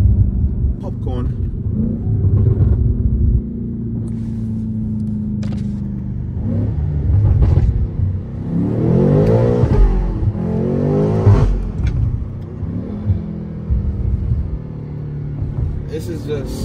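BMW M8 Competition fitted with a catless downpipe and Eventuri intakes, driving with a deep engine rumble that swells and eases as it accelerates, mostly under ongoing conversation in the cabin.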